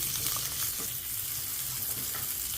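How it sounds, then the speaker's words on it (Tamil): Onions sauté in a pan for chicken curry with a dense, continuous hiss of frying and a few faint stirring scrapes under it. "இது நல்ல ப்ரௌன் கலராக மாற வரைக்கும் நல்லா வதக்கணும்"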